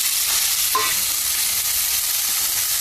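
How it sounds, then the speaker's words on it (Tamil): Potato pieces sizzle in hot oil with fennel seeds and ginger-garlic paste, a steady loud frying hiss with one brief clink of a stirring utensil. "எண்ணெய் ஊற்றியாச்சு, பெருஞ்சீரகத்தை போட்டாச்சு, அதில் இஞ்சி பூண்டை பேஸ்ட் போட்டாச்சு, உருளைக்கிழங்கு அதில் போட்டாச்சு"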